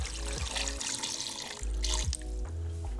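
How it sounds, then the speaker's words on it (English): Water pouring into a cooking pot for Liberian palm butter soup, a steady gushing stream with a few pauses and splashes, close and fairly loud with no talking. "Now into this pot, we're going to add some water in."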